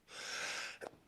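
A single sneeze with a sharp burst of breath at the end, fairly close but not loud, with no talking over it.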